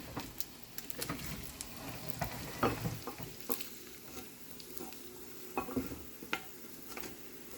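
Spaetzle frying in butter in a pan, a steady soft sizzle with scattered stirring scrapes and clicks, moderately close and without talk.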